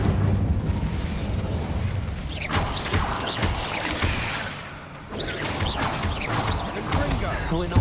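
The Incendio fire spell in Hogwarts Legacy, cast in the middle of a duel. Fiery bursts and whooshing blasts come in two loud waves, with rumbling combat noise between them.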